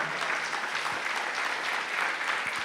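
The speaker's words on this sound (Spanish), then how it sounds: "Dale ese aplauso al Señor." A church congregation claps together during a Spanish-language worship service, a dense, steady applause filling the room without pause.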